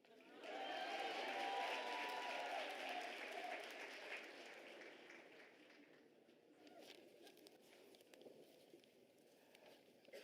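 A crowd at a University of South Africa graduation ceremony applauds loudly and steadily, the clapping gradually thinning and fading as it continues.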